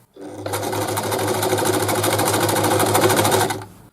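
A Brother Boutique 30 sewing machine runs a zigzag 3-step stitch, a loud steady whirring with fast regular needle clatter that starts abruptly, holds for about three seconds alone, then stops.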